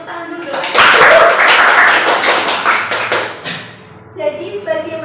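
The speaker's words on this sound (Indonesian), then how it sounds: "Pertanyaan, tepuk tangan dulu dong." A group in a classroom roleplay session claps hands in a dense burst lasting a few seconds that fades out, followed by someone resuming speech.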